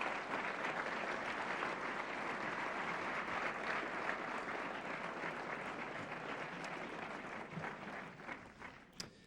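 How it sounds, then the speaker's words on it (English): Sustained applause from a studio audience for Entertainment Tonight's Lisa Gibbons, steady and full throughout before thinning slightly near the end. "give Lisa a round of applause"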